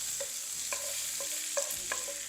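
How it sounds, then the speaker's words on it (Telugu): Mint and coriander leaves frying in a hot pan, a soft continuous sizzle broken by a few light scraping stirs, close and fairly quiet, with no talk. "ఇదే వేడి ప్యాన్లో ముందుగానే ఒలిచిపెట్టుకున్న పుదీనా ఇంకా కొత్తిమీర వేసేసుకోవాలి ఇది కూడా చక్కగా మంచిగా వేయించుకోవాలి"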